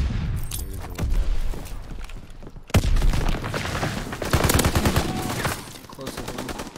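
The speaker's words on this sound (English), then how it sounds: "that was such a big gunfire" Video game gunfire in an online shooter, rapid loud bursts and cracks with booming thuds packed close together, with faint voice chat in the background.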